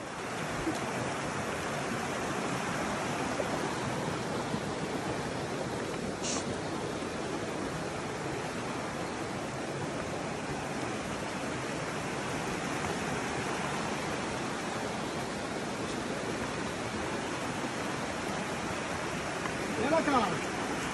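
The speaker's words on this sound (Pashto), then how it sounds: "ډېر یو په زړه پورې دا د اوبو شور داسې لګېږي" A rushing stream at Paghman roars steadily and loudly for the whole stretch, a dense, even wash of water noise with no pauses, close by and alone with no voices over it.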